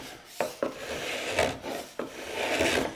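Soft epoxy scraped from a wooden boat frame into a square corner, heard as several short rasping strokes with sharp onsets, close and moderately quiet.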